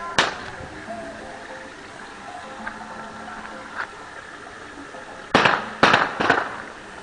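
Cherokee firecrackers go off outdoors: one sharp bang at the start, a quiet stretch, then three loud cracks in quick succession near the end.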